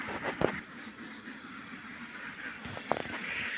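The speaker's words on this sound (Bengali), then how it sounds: "হাঁসের ঘরের মধ্যে হাঁসে প্যাক করতেছে" Ducks inside a village duck house on a winter morning, two short quacks a couple of seconds apart, heard from a little distance over soft background noise.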